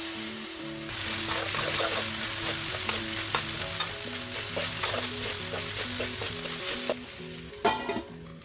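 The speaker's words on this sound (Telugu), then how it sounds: "సో స్టిక్కీనెస్ పోయేదాకా మంచిగా ఫ్రై చేసుకోవాలి." Okra (lady's finger) fries in a pan with a strong, continuous close sizzle, broken by repeated scraping and clinking of stirring and a few louder knocks near the end, with no voices.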